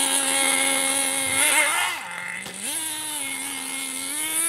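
A nitro Team Associated SC10GT 2wd short course RC truck engine, freshly broken in and running a little rich, buzzes loudly and close, its pitch dipping and then rising again as it revs.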